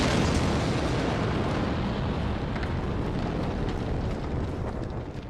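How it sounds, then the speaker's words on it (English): Big fireballs hurled by an enemy in Dark Souls on PS3, near Anor Londo, erupting as a continuous loud, roaring blast of explosive noise that stays dense throughout, with no talk. "we got to go get rid of Mr. Feisty up here, who's chunking big fireballs at us"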